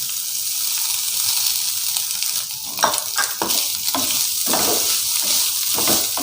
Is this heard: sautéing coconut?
yes